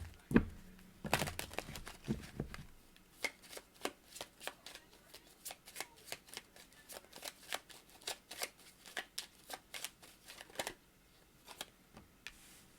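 Oracle cards for a tarot reading are shuffled close up, a rapid riffle at first and then a long run of evenly spaced soft slaps and flicks in a steady rhythm, with no talk.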